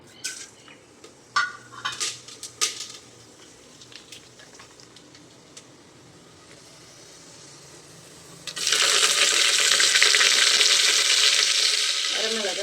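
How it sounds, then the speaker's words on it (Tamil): Coriander seeds and cumin hit a pan of oil alongside dried red chilies, first with scattered knocks and light stirring, then a sudden loud, continuous sizzle that fills the rest of the clip. "இந்த தனியாவையும் சீரகம் சீரகமும் போட்டுருங்க"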